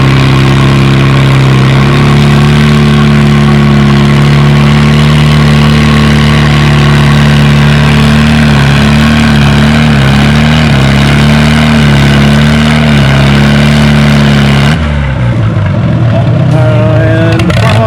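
A Farmall C tractor roars under load in a pull at the Othello Spring Nationals, its loud steady engine drone wavering as it labors, then cutting off abruptly near the end; an announcer talks over it.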